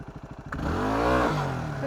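A 2008 Yamaha WR250R motorcycle's engine idles in short pulses, then revs sharply and holds high before easing off, as the rider prepares a wheelie; close and alone with no talk.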